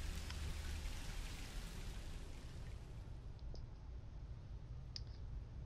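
Steady rain pours throughout a dark horror video game scene, a dense hiss with faint scattered drips and clicks, heard alone at a constant level.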